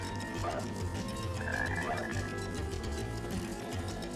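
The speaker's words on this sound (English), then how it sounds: "Did you guys hear a croak?" Frog croaks ring out in a rainy rainforest stage of Sonic Heroes, set against a steady, busy game soundtrack.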